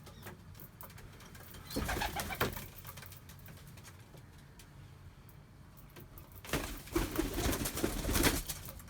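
Tumbler pigeons coo in short soft bursts indoors at a bird market, with wingbeats and rustling in two clusters separated by a quieter stretch.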